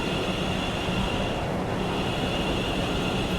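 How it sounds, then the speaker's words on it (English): A train departs a station in Train Sim World 5, giving a steady, dense rumble of rolling stock and rail noise that holds at an even level throughout, with no talking over it. "There's a train leaving, but I don't know where."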